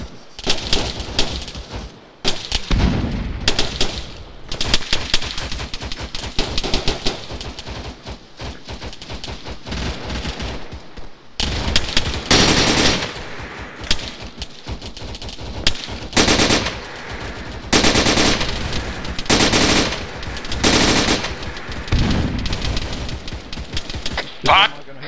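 Sustained automatic gunfire and scattered single shots in an ARMA 3 firefight on a beach, loud and near, come in long dense bursts with short pauses across the whole stretch, and a voice is sometimes heard under the shooting.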